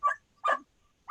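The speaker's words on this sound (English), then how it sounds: "I apologize for the barking dog." Two sharp dog barks ring out a short distance away, separated by a brief pause, with a third bark just starting at the very end.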